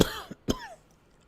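A man coughs sharply once, then gives a short, rougher throat clearing half a second later, close and fairly quiet against near silence.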